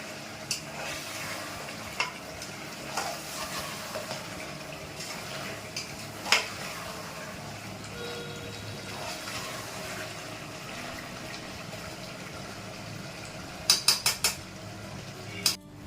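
Mutton curry braising in a pot, a low constant sizzle with occasional clinks of a spoon against the metal and a quick cluster of sharp scrapes near the end.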